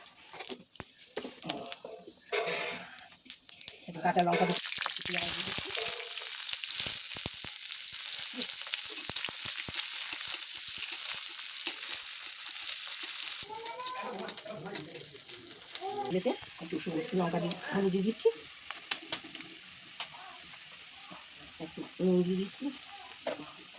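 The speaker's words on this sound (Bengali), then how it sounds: "এবার সর্ষের তেলটা দিয়ে দিচ্ছি দিয়ে ফোড়ন দিয়ে দিচ্ছি" Spices sizzle and crackle in hot mustard oil for a Bengali potoler dolma, a steady frying hiss with stirring clatter while someone talks over it at intervals.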